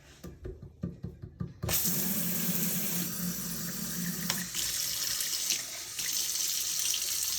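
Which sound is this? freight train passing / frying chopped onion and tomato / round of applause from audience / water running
water running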